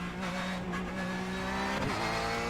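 Racing car engine in a sim racing video game during a hot lap, a steady droning engine tone that holds throughout with a brief pitch dip and swoop near the end as the car shifts or brakes, no talking.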